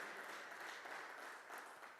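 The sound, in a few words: congregation applauding the Lord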